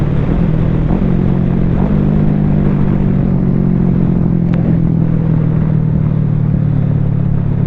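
Kawasaki Ninja 650 motorcycle engine cruising at a steady 4,500 RPM on a first ride, loud constant droning hum with wind roar, close and unbroken throughout.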